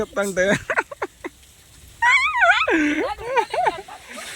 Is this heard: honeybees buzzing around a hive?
no